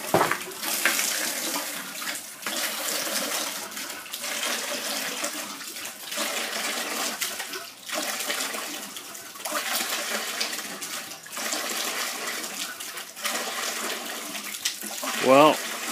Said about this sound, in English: Well, didn't know water was supposed to come out the top